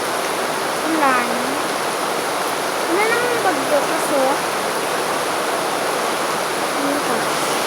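Heavy rain pours in a constant loud hiss, with someone speaking briefly over the steady downpour.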